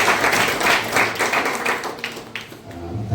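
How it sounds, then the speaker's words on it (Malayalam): Applause from a church congregation for the choir and music team at a musical night at a fellowship church in Mangaf, Kuwait: a dense, steady patter of many hands clapping that gradually thins out. "നമ്മുടെ അഗാപ്പെ കൊയർ ആൻഡ് മ്യൂസിക്കൽ ടീമിന് വേണ്ടി ശക്തമായിട്ട് നമ്മൾ ഒന്ന് കൈയടിച്ച്"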